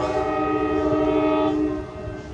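An Amtrak San Joaquin passenger train pulls into Oakland's Jack London Square station with its horn blaring loud and close, a sustained chord held for over a second before fading into the rumble of the passing cars.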